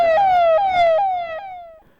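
A TTD Sanjeevini medical-service ambulance siren wails loud and close, repeating its falling tone in short cycles for about two seconds before fading.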